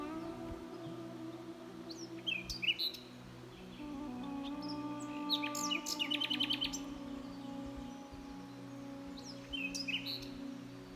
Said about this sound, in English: A melodious bird, possibly a bee-eater, serenaded us along the way.